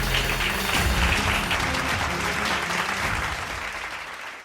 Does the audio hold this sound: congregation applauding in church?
yes